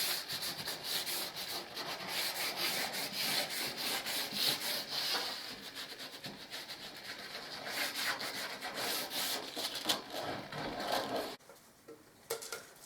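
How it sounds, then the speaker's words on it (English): Dry painted walls in a dormer bathroom are lightly sanded by hand, giving a continuous close scratchy rubbing with a steady back-and-forth rhythm that stops abruptly near the end. "Give it a light rub down and I can second coat the walls."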